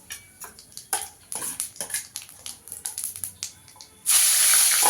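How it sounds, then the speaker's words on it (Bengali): Dried red chilli, two bay leaves and whole cumin seeds crackle in hot oil with rapid irregular pops and spits, then a sudden loud, steady hiss of frying takes over, close at hand. "একটা শুকনো লঙ্কা, 2টো তেজপাতা, একটু গোটা জিরে ফোড়ন দিয়ে দেবো"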